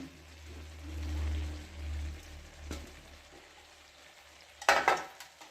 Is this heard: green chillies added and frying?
yes